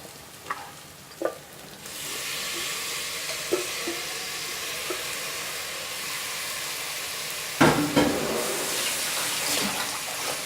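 Mutton frying with onion and tomatoes gives a steady, close sizzle, broken by scraping and clattering as the pan is stirred, including one louder clank near the end.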